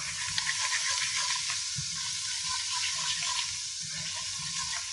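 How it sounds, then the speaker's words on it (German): A spoon stirs a flour and red paprika roux in a pot for Serbian pasulj bean soup, giving a steady close sizzle with faint scraping. "dann das Ganze schnell umrühren"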